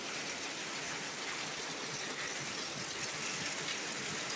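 Heavy monsoon rain pours down in a dense, unbroken hiss, loud and steady with no pauses or voices.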